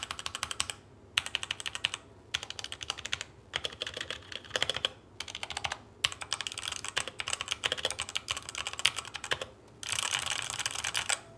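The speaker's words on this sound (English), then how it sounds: "this is what it sounds like with the red switches" A Redragon mechanical keyboard with red switches is typed on steadily, bursts of rapid close clicks and clacks broken by brief pauses, with no talking.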